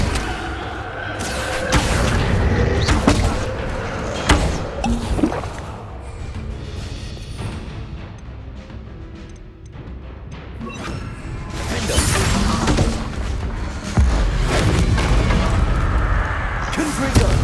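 Confringo fire-blast spells exploding in Hogwarts Legacy, repeated booming blasts and crackling bursts in clusters, loud and close, with a calmer stretch in the middle and a second flurry of impacts afterward.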